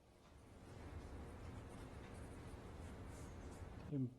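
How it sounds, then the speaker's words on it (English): A pen scratches steadily as notes are written down during a maths lecture on calculus, a faint continuous rustle in a quiet room, ending with a short voiced sound. "So I'm going to write that down because it's important."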